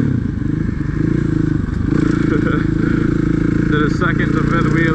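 A motorcycle engine runs loud and close, its pitch rising and falling as the rider goes through the gears from second to fifth in a wheelie, with wind buffeting and a voice talking over it.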